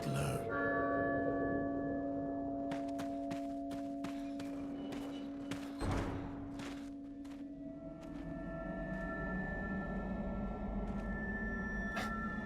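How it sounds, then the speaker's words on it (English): A church bell tolls repeatedly in the Resident Evil 4 Separate Ways video game, a series of bright, evenly spaced clangs over a sustained droning game background, with a single heavier strike partway through and ringing resonance after. "Ada had to go through all that to ring a bell?"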